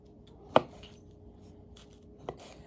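Knife cutting through grapes on a cutting board for a sandwich: two separate crisp chops roughly two seconds apart, the first louder, over quiet room tone.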